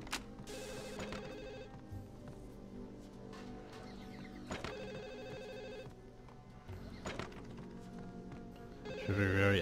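A telephone rings repeatedly in the Max Payne 2 video game, bursts of trilling bell tone recurring about every three seconds, fairly quiet under game ambience and background sounds.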